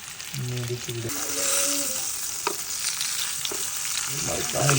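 Avoli (pomfret) fish frying in a hot pan, a steady loud sizzle throughout with a few brief scraping stir sounds and some low tonal clatter near the start and end.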